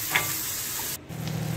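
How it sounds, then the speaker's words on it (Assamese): Finely chopped tomato frying in oil in a pan for an Assamese fish egg dish, a close steady sizzle with a brief dip in the middle before it resumes with stirring. "বিলাহীটো ভালদৰে ভাজি লৈছোঁ"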